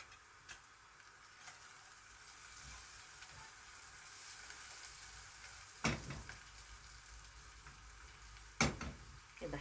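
Onion frying in a pan, quiet steady sizzle with a soft crackle throughout, plus two sharp clinks of a utensil against the pan near the end.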